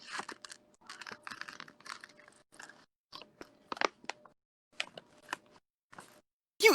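Someone close to the microphone chews crunchy beef jerky, giving a run of irregular crisp crunching bites with short pauses between them, ending in a louder rustle.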